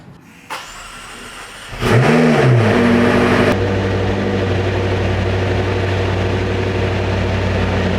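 A McLaren engine cranks and fires up, flares through a loud rising-and-falling rev, then settles into a steady, rough idle while warming up, close and loud with no talking.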